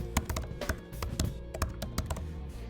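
Fingers tap quickly across a computer keyboard in an irregular burst of close, crisp keystrokes, heard alone without any voice.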